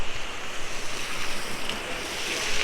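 A river rushes past a snowy mountain road between Manali and Sethan in winter, a steady broadband roar with wind buffeting the microphone and no voices.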